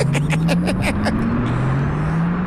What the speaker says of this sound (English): It sounds like a tram at the airport, like one of those electric, trams